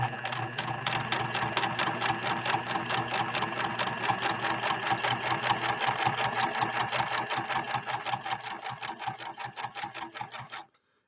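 A PFAFF 1222 sewing machine runs a zigzag stitch through two layers of vegetable-tanned leather: a steady, rapid mechanical chatter of evenly spaced needle strokes, close and loud, running about ten seconds before stopping abruptly.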